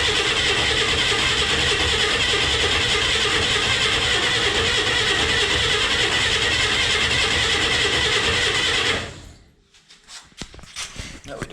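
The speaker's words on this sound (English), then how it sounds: "I just gotta crank it over longer. It's not getting any fuel yet." The engine of a 1962 Chevy Corvair van cranks over steadily and loudly without catching, a continuous rhythmic churning from the starter that stops abruptly, leaving quieter clicks and rustles.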